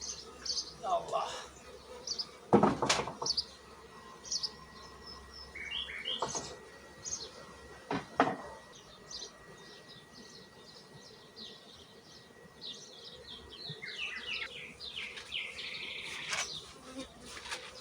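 Honey bees buzz around hive frames while colonies are combined and split, a close, wavering drone of many wings with sharp nearby passes, occasional bird chirps and a faint voice in the background.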